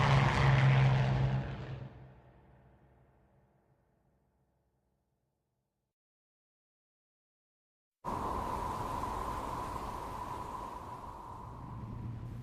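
Lancaster bomber piston aircraft engines roar loudly, fade away over about four seconds into silence, then a steady engine drone cuts back in near and strong for the rest.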